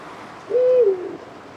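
A Eurasian eagle-owl hoots once during winter mating season near a suburban apartment, a single clear, moderately loud sustained note lasting about half a second over faint background hiss.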